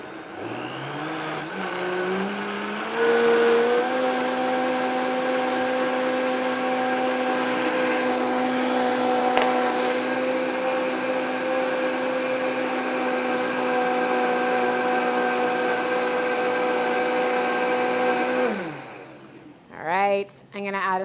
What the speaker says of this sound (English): All right, back to my favorite place, the blender.